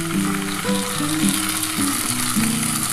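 Soybean chunks and potatoes frying in a pan as poppy seed paste is added, a steady close sizzle running throughout with faint stirring clatter and no talk.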